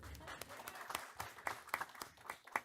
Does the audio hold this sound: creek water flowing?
no